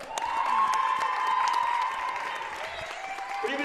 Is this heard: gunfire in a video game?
no